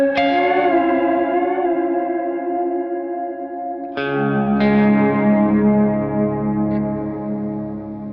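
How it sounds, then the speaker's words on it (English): Guitar notes ring out through a Walrus Audio SLÖ reverb pedal on its dark setting, each chord swelling and trailing off into a long, moody wash of echo. "So first of all, we're hearing the dark reverb."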